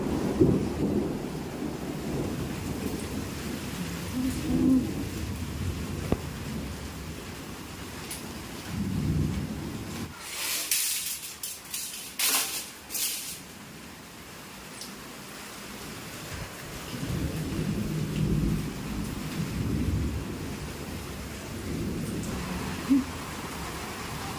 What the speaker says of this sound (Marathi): पहिला पाऊस रेग्युलर सतत सतत नुसता पाऊस पाऊस पाऊस